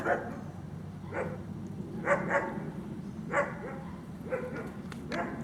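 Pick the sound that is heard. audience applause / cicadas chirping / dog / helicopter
dog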